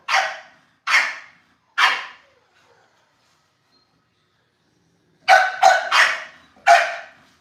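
An American Bully puppy barks while playing, three sharp close barks, a pause, then a quick cluster of four more, with silence between.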